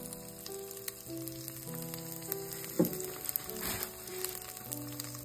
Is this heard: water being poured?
no